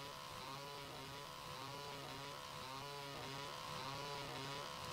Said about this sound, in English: Next, we're going to do the chainsaw.